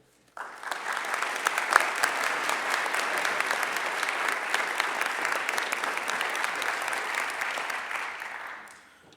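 Steady, loud audience applause welcoming a lecturer to the second talk in a lecture series, sustained for several seconds before tapering off at the end.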